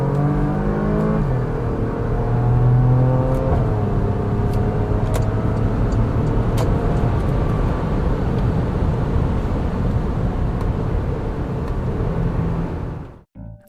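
Porsche Macan S engine heard from the cabin while driving, a fairly discreet, steady drone with rising whir as it accelerates through gears, road noise underneath, ending abruptly; no talk.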